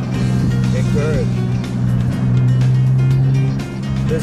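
A car drives along a coastal road by the ocean, its engine giving a loud, steady hum with road noise, while people talk over it throughout.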